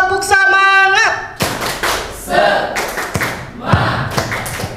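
A group of adults at an Islamic elementary school claps a rhythmic spirit clap together, sharp hand claps bursting out loudly after a brief stretch of voices, with chatter mixed among the claps.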